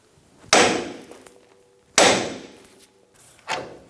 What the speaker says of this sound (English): We're going to smack right here to shock the stud out of the ball joint.